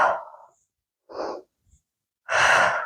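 Breathing during a Pilates workout on a pro chair: a soft breath, a short pause, another breath, then a long, forceful exhale, all close and with no talking.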